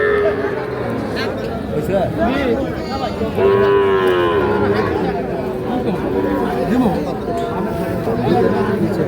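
A two-to-three-month-old Sahiwal bull calf moos loudly at a busy rural cattle market, its drawn-out calls rising above the chatter of a crowd and people talking nearby.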